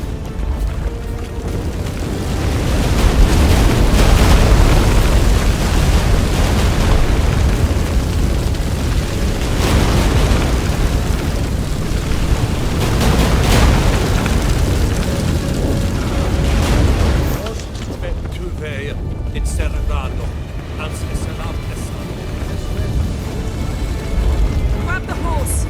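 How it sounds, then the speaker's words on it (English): Earthquake in The Witcher 3: Wild Hunt, heavy continuous low rumbling and crashing roar that holds loud for most of the scene, then eases into lighter debris and clatter, with voices talking over it. "Shit. An earthquake?"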